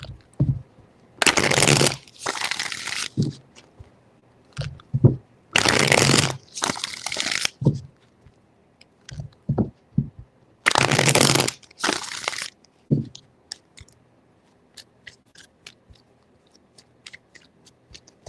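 Tarot cards shuffled by hand in three bursts of riffling and crisp card slapping, each followed by a few quieter taps and handling sounds, close and otherwise quiet.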